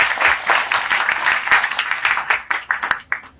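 A crowd at a community groundbreaking ceremony claps loudly and steadily, then the applause tapers off to a few scattered claps.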